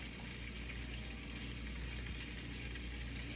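Chicken fries in oil, cooked long and slow to a crisp outside, giving a steady, even crackling sizzle that stays fairly faint throughout, with no talking.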